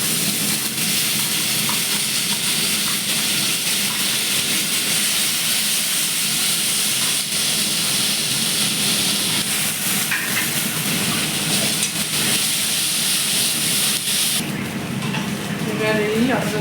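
Ginger garlic paste frying in oil over a cumin tempering, a loud continuous close sizzle and hiss throughout, with a brief sharper burst near the end.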